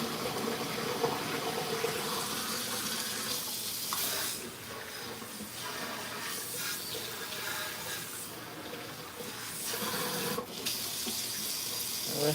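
Water runs steadily from a kitchen tap while a sink is rinsed out, a continuous close splashing hiss that shifts slightly as the flow hits the basin, with no talk.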